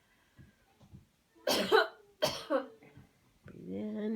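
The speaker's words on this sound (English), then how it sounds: "Cough hard. Let it out." Two strong, close coughs from a person in a cleansing coughing exercise, followed by softer breathy throat sounds and a faint voiced exhale.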